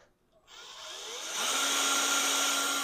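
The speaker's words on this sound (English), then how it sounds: "I'm using a little 1/8 bit here before I drill my bigger hole" A small 1/8 inch bit drills a pilot hole in metal, the power drill's whine starting after a brief quiet, then a steady, loud grinding buzz that builds and holds close by.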